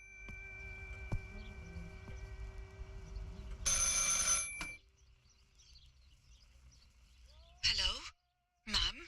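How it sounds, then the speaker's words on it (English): A telephone rings in the horror video game Martha Is Dead, with a buzzy burst of ringing over a low room hum, then quieter ambience and short bright bursts near the end. "I should pick up the phone but remain silent."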